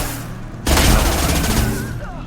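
Enemy rocket launcher fire in the video game Mass Effect 2, a sudden loud blast with a rumbling roar that sustains for over a second amid game noise.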